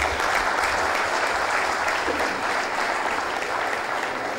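A sustained, dense wave of audience applause fills the hall as a crowd claps in unison after a speech by Sheikh Al Ubna at a UAE event.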